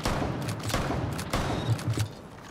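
An M870 shotgun in Rainbow Six Siege fires several loud, close blasts in quick succession, each a sharp boom trailing into a short reverberant tail.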